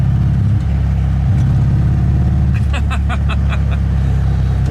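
A 1974 VW Beetle engine pulls hard in third gear, a loud, steady low drone running throughout, with a burst of brighter, pulsing tones late in the stretch.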